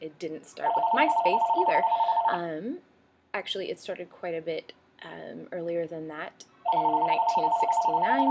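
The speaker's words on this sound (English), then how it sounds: "So sorry for the phone ringing." An indoor telephone rings in repeated electronic bursts, loud and near, at the start and again at the end, under and between a person talking.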